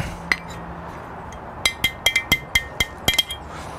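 Metal ear being tightened onto a wet-rated electrical gang box, a quick run of bright metallic clicks and taps, close and crisp, clustered toward the end with no talk.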